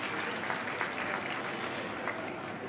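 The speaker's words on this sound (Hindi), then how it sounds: "मैं समझती हूँ उसके लिए एक बार जोरदार तालियां होनी चाहिए" Sustained applause from a political rally crowd, steady clapping throughout at moderate volume.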